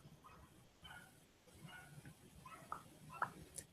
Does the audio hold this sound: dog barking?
yes